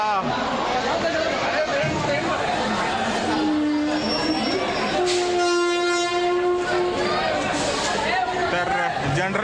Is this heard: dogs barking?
no